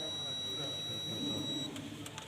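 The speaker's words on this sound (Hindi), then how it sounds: "यहाँ पर आप देख सकते हैं कि इसकी कंटिन्यूटी बोल रही है बीप साउंड" A multimeter gives a continuity beep while probing the speed sensor wiring of a 2013–2014 Toyota Corolla. A steady high-pitched tone sounds for under two seconds over low workshop noise, then cuts off.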